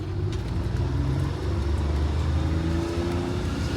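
An MCI 5C bus with a Detroit Diesel 6V71 engine accelerates in a steady, loud low diesel rumble with a gradually climbing engine note, heard from inside with no talking.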